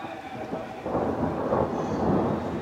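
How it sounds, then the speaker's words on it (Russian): Thunderstorm with thunder, a low rumbling roll swelling after a moment and lingering, heard at moderate distance with rain noise beneath and no talking. "У нас тут такая гроза."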